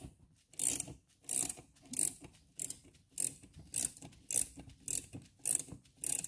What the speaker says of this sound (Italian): la tengo dritta e riavvito